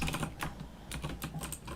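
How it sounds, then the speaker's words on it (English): Fast, continuous typing on a very loud computer keyboard, with clacky keystrokes in an uneven rhythm and occasional heavier presses, close and fairly quiet overall. "I'm trying to be as quiet as possible on my mega loud keyboard."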